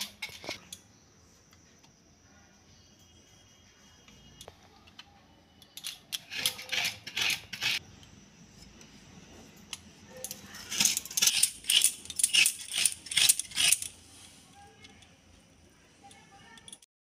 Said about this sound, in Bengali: এইভাবে ধারগুলোকে আগে কুড়িয়ে নিলে সুন্দর কোরানোটাও ভালো হয় নারকেলে।